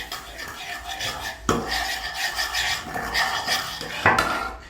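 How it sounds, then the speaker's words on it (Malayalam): Ingredients for a homemade termite spray being stirred together in a bowl, with continuous scraping and rubbing and a couple of louder knocks of the utensil against the bowl. "നല്ലോണം മിക്സ് ആക്കുക."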